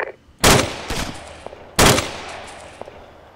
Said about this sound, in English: Hey, where is that fire coming from?